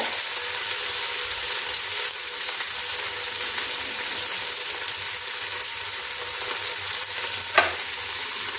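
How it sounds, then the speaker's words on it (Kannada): Broken wheat frying and being stirred in ghee in a pan, a steady close sizzle with a soft scraping stroke near the end, no voices. "ನೋಡಿ ಇದನ್ನ ಹಾಕ್ಕೊಂಡು ತುಪ್ಪದಲ್ಲಿ ಹಿಂಗೆ ಫ್ರೈ ಮಾಡ್ಕೋಬೇಕು, ಅವಾಗ ಅಂಟು ಬರಲ್ಲ."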